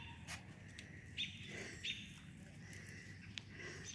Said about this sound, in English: You hear the birds peeping.